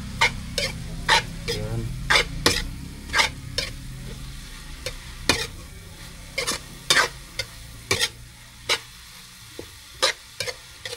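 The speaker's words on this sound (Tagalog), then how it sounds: "Haluin na natin mga kaludan." A utensil stirring food frying in a pan, sharp repeated scraping clicks at an uneven rhythm over a soft steady sizzle, close by, with a brief spoken word.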